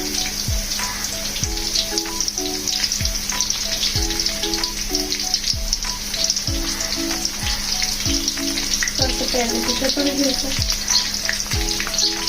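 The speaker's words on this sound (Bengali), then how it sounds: "এটা থেকে যখন একটা সুন্দর স্মেল বের হবে এবং এটা একটু ভাজা ভাজা হবে" Chopped ginger and garlic frying in oil in a pan, a steady close sizzle with regular scraping stirs and faint clinking, no talk over it.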